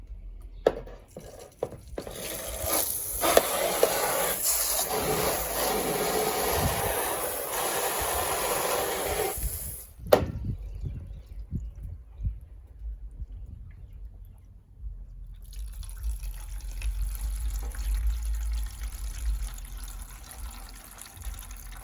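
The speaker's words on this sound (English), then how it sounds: "I'm going to turn this on. You're going to hear the water flow." Water runs through a house gutter after debris has been cleared, a steady broadband rushing and splashing for about ten seconds that abruptly cuts off, followed by quieter trickling and low rumble with occasional drips.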